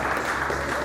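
An audience standing to honour elders at a Dhodia community convention in Dadra and Nagar Haveli claps together, a brief, dense, even wash of applause with no voices.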